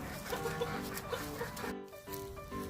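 Backyard chickens cluck in short, soft bursts amid a busy, noisy background, with a few brief louder calls standing out close by.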